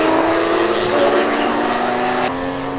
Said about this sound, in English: Rupert Martin in the yellow and red Ferrari Challenge, very much in the thick of things.